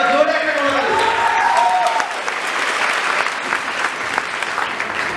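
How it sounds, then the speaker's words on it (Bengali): An audience at a university career club event claps loudly after a speaker's request, with a voice trailing off at the start as the steady, dense applause fills the room. "তার জন্য জোরে একটা করতালি।"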